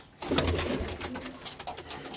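Pigeons coo close by on a rooftop in soft, throaty burbles, overlapped by scratchy rustling and shuffling.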